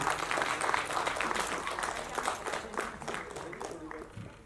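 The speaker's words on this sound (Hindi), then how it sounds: "किसी की तालियां सुनाई दे रही है" Audience applause at an international film festival event, a steady wash of clapping that stays fairly even throughout with voices mixed in.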